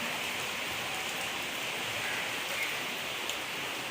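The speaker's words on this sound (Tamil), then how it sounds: "திடீர்னு சரியான மழை, பட பட பட பட படம் மழை பெய்யுது பாருங்க." Sudden heavy rain pouring down, a dense, steady hiss of countless drops drumming on surfaces, loud and unbroken throughout with no voices.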